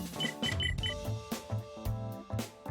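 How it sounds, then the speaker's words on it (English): Repeated electronic beeps in Digimon Story: Cyber Sleuth - Hacker's Memory, short bright tones in rhythmic bursts over game music with low thumping accents. "stop with all the beeping"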